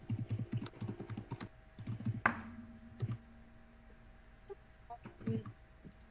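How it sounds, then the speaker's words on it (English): Fast, clattering keystrokes on a computer keyboard in quick bursts with short pauses and a sharp click partway through, fairly close and quiet, with brief soft voices in the background. "Somebody tell me when Ben's not typing"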